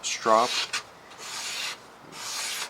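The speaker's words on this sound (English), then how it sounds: "after I sharpen it, I use a leather strap" A Bowie knife blade being stropped on a leather strap after grinder sharpening, making steady scraping rubs in two long passes, with a brief tonal squeak at the start.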